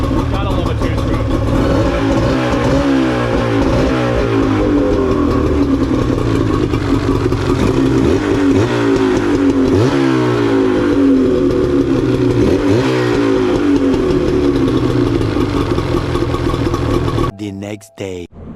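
A two-stroke engine, apparently a small outboard on a skiff under construction, runs loud and steady for most of the time with wavering pitch and rough revving, then cuts out near the end.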